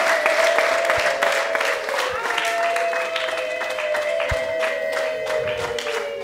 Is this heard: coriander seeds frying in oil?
no